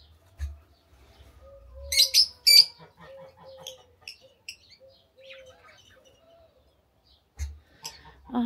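Pet budgerigars, a male and a female, chirp indoors in scattered short calls and warbles, with a few louder sharp bursts between quieter twittering and some low thumps.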